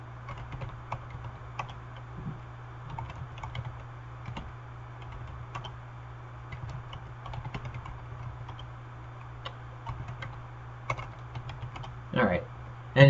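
A computer keyboard is typed on at close range, giving a run of quick, light key clicks over a low steady hum, with a brief burst of louder keystrokes near the end.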